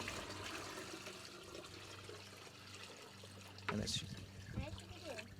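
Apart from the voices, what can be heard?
rice water being poured out over plants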